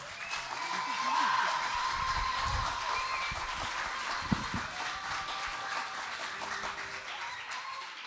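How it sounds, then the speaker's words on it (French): Steady applause from an audience at a student festival final prize announcement fills the whole stretch, dense and sustained, with a voice faintly audible underneath. "On l'applaudit très fort."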